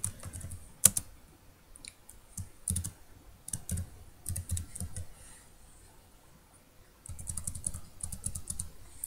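Quiet, close typing on a computer keyboard as a name is entered, with irregular bursts of key clicks separated by short pauses.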